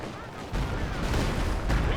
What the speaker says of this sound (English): Stuka barrage on the infantry section in the center, forces the retreat of both units